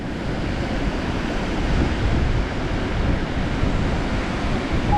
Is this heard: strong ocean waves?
yes